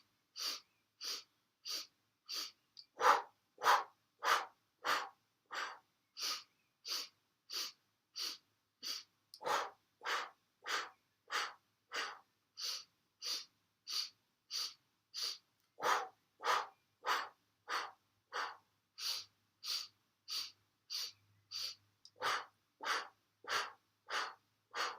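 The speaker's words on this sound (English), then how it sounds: "So keeping that breath going and just making sure that you're breathing into your belly" Fast, rhythmic belly breathing during a Kundalini yoga exercise: steady, forceful, evenly spaced breaths repeat more than once per second for about twenty-five seconds, close and clear with no talking.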